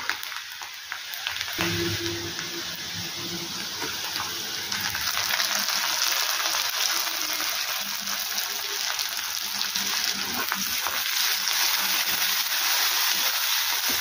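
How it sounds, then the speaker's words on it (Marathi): Tomatoes and onion sauté in hot oil for a quick dal-and-onion tiffin vegetable dish, giving a continuous loud close sizzle and hiss with soft stirring scrapes throughout. "टोमॅटो देखील आपण तेलात व्यवस्थित असा परतून घेऊया."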